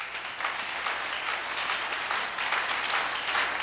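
A church congregation applauds and cheers in praise, a dense, steady wash of clapping from many hands that holds level and fills the space without pause.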